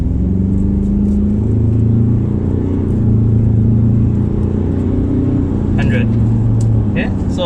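A 2021 Ford Ranger accelerates along an empty road in Sarawak, Malaysia, its engine droning as a steady rumble from inside the cab under a continuous road roar, with a voice talking over it.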